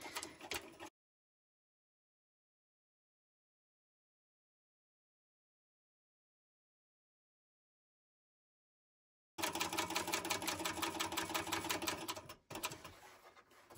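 Sewing machine stitching a 3/8 inch seam on a bucket bag, heard as a brief burst, then silence, then several seconds of rapid, steady mechanical chatter up close that ends in a few light clicks.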